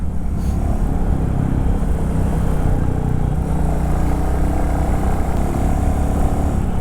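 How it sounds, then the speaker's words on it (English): A Royal Enfield Classic 350 motorcycle engine drones steadily and loudly up close on a mountain road, a continuous throaty rumble with no speech over it. "On this type of beautiful Ghat roads, you can open up and just the engine comes alive."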